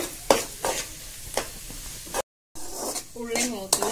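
Onions fry in a pan with a bright sizzle and scraping stirs, broken by a brief dropout, while a voice speaks over the cooking near the end.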